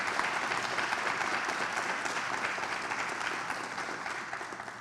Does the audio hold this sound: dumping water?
no